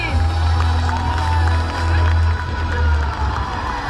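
Loud applause and cheering from a festival audience at an anime and cosplay geek fest in Yakutsk, with children's shouts mixed into the sustained clapping, plus a low steady hum underneath.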